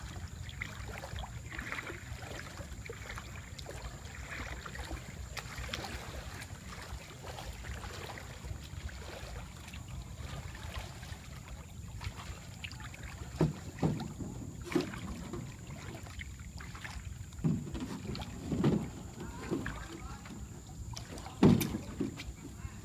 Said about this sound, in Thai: นี่เป็นเรือแคนูครับ ไม่มีหางเสือ ไม่มีอะไรเลย